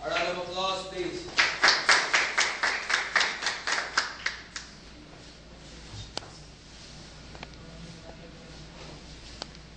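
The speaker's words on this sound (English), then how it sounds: "A round of applause, please" A short burst of clapping from a small group at a scout summer training awards ceremony, quick and rhythmic, fading out after a few seconds into quiet room noise with occasional light taps.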